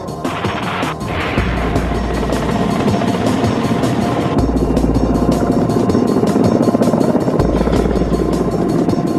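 Kamov Ka-29 assault transport helicopter with rapid, pulsing rotor chop and a loud, steady turbine roar, heard close and continuous for the whole stretch.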